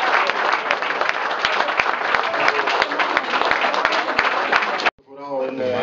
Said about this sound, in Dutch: Geef ze nog een daverend applaus, Steen Manne, ster vanavond.